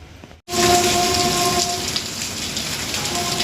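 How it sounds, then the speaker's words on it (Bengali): Heavy rain pouring down during a thunderstorm, a loud dense roar that bursts in after a brief gap and holds steady, with low rumbling beneath. "দেখুন বন্ধুরা, বৃষ্টি হচ্ছে।"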